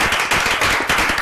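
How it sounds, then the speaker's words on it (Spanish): Audience applause at a construction trades school event on Worker's Day, dense steady clapping from a group, close and loud throughout the short stretch. "le damos un fuerte aplauso para él."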